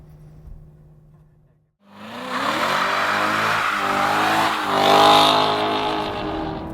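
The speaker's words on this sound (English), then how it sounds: "we know that she'll spin the tires" A 2016 Chevrolet Corvette Z06 on a track: a moment of quiet, then its engine bursts into a loud, close roar that climbs steadily in pitch as the car accelerates hard.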